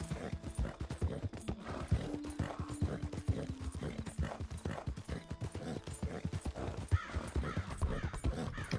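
Steady clip-clop of a thoroughbred horse's hooves trotting at an even rhythm in a video game, fairly close, with a few faint bird caws in the background.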